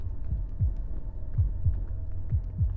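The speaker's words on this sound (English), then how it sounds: "That's coffin thudding." Low, muffled thuds repeat in an irregular pulse, a few per second, over a steady hum: a coffin thudding inside a tomb in a mummy-themed video game, with no voices.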